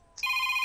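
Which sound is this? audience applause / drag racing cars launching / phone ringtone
phone ringtone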